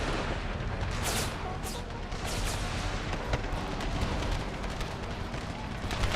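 Howitzer artillery fire in a modded Empire: Total War battle, with distant booms and scattered gunshots over a steady battlefield rumble.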